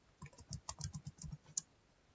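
Fingers typing on a computer keyboard, a run of quick, uneven clicks and key taps at close range, pausing briefly near the end with no talk over them.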